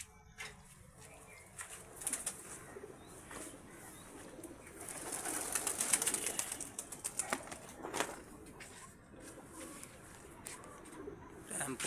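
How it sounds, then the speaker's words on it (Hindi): Pigeons released outdoors coo and flap into flight, with soft fluttering wingbeats and faint calls over quiet ambient noise, swelling midway and then tapering off. "ये माशाल्लाह से उड़ने लगे हैं परिंदे।"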